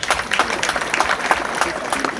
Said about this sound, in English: I wish you clap for that.